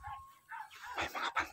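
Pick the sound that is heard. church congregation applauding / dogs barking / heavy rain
dogs barking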